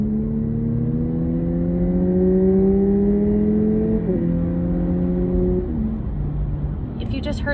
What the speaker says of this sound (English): when it's in sport mode, it makes some weird fake sounding exhaust noises